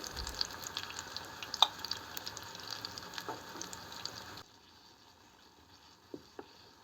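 Potato and flour cakes sizzle steadily in hot oil with a dense, even crackle, joined by a few faint clinks; partway through the sizzle drops sharply to a much quieter level.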